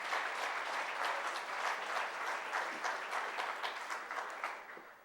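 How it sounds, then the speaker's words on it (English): A ceremony audience breaks into dense, even applause that carries on for several seconds and slowly fades toward the end. "So round of applause for all those guys."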